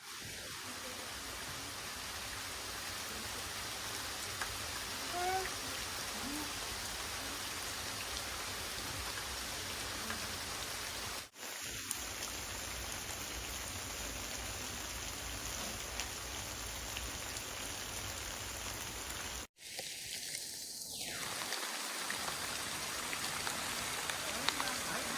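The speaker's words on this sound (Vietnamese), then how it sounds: "Ui, chết mưa rồi, mưa rồi." Steady rain pouring outdoors around an abandoned house, a dense even hiss throughout, with a few brief bumps and a short tonal sound partway through.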